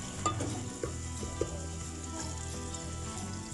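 Chopped onions fry in a pot for Pakistani Punjabi chicken yakhni pulao, giving a steady close sizzle with a few sharp stirring clinks and scrapes at irregular intervals.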